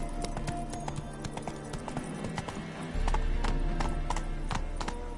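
Horse hooves clip-clopping in a quick, steady trot in The Witcher 3, close and distinct over a low game ambience, with a faint snort-like sound mixed in.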